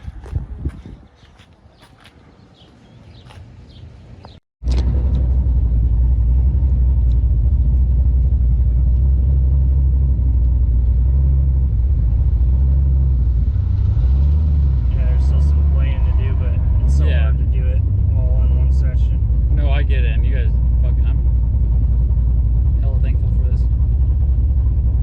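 A small car's engine runs loud and steady on a dyno, a deep low rumble that stays constant after a brief quieter stretch at the start, with faint mechanical clatter on top.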